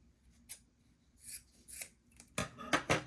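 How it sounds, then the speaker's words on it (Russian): Large scissors cut through craft material in a series of crisp snips and rasping slices, irregularly spaced and growing denser and louder toward the end, close up with no talking. "Самые большие отрезки я режу большими ножницами."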